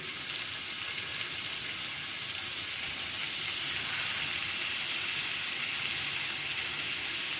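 Turkish Adana kebab sizzles on a well-heated griddle as a steady, broadband hiss that holds close and fairly loud throughout, with no talk over it.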